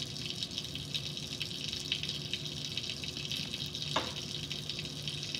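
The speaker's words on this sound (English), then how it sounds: "The water rushes through the nozzle here, sucks air through this nozzle on the flask." Water rushes steadily through a laboratory aspirator nozzle on a filter flask during vacuum filtration, a continuous hiss and gush that holds level throughout, with one brief sharper knock near the end.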